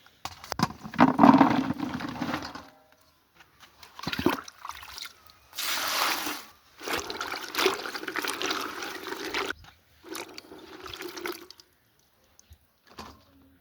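Freshly picked bean pods, which had been dropped on the ground, are swished and rinsed in water, with bursts of splashing and trickling separated by short pauses, close to the microphone.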